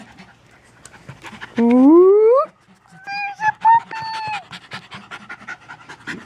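A puppy pants in quick, close breaths, mixed with high drawn-out whines and yelps, and a person briefly exclaims.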